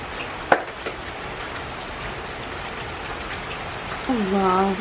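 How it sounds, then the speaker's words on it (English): Steady rain falling on a gloomy day, a constant hiss of drops with a couple of sharper knocks near the start and a faint tonal sound near the end, no talking. "I love a rainy, gloomy day, y'all."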